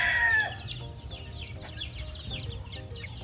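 Gamefowl chickens on a game farm, a crow fading out at the start, then soft clucks and scattered bird calls over a rustling, muffled outdoor background, close and with no voices.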